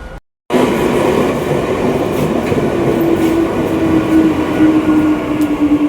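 A train at Barrackpore railway station, loud continuous rumble and rail noise with a faint squeal of wheels building near the end, heard alone and close.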